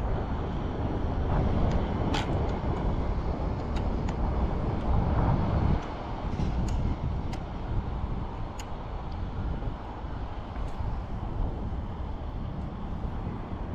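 A steady droning whir with broad rushing noise and wind buffeting continues throughout, faintly ticking, from a small quadcopter drone flying nearby in Scotland.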